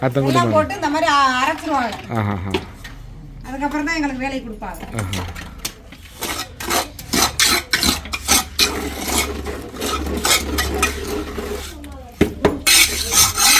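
Cement, sand and red oxide colour are scraped and mixed by hand for Athangudi tiles, giving repeated gritty rasping and clinking strokes. A voice talks over the first part of the work.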